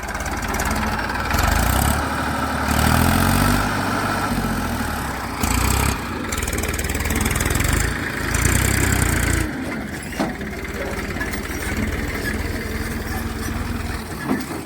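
A tractor engine idles in a field as farmland is spread with soil, a loud, steady low rumble that runs the whole time with brief surges in level.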